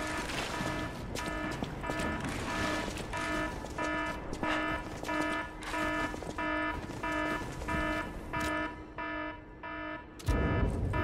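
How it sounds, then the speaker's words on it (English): An old-school klaxon alarm in the video game Lies of P, blaring in rapid repeated pulses throughout before cutting off near the end, loud and alone. "full-on klaxon alarm"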